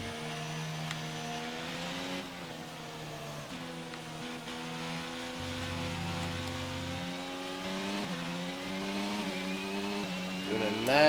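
Race car engine in the F1 22 video game whines at high revs throughout, pitch climbing and dropping through gear changes and throttle lifts, loud and continuous with no talk over it.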